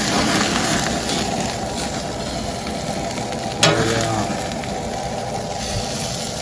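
Grass-fed jalapeno burgers sizzle on a grill with a dense, constant crackling hiss, close and steady, with one brief sharp clink partway through.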